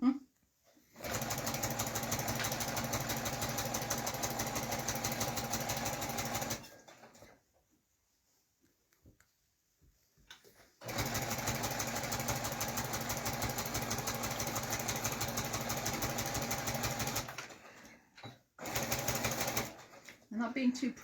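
A sewing machine stitching a quilted table runner, running in three bursts of fast, steady, close whirring and clattering separated by short pauses, with a voice talking over it.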